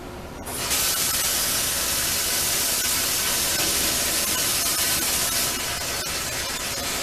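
Water is poured into a hot pot for sourdough bread and a loud, steady steam hiss starts abruptly, then continues for several seconds before easing slightly.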